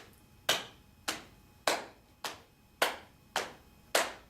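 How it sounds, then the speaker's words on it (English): Single pair of hands clapping a steady beat, seven crisp, evenly spaced claps about half a second apart, each ringing out briefly in a quiet room. "Probably the easiest thing to do with this to create a meter is to just go clap."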